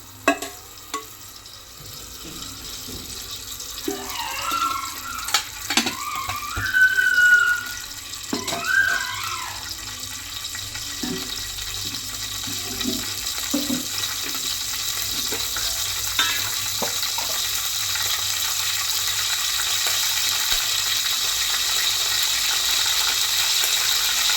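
Oil crackles and sizzles in a pot still holding a little water, with scattered clinks and splashes early on, settling into a steady hiss that grows slightly louder toward the end.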